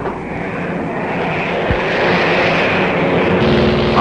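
A 1944 wartime recording of a WWII bomber droning steadily overhead while under enemy fighter and anti-aircraft attack, a loud continuous engine roar with no speech.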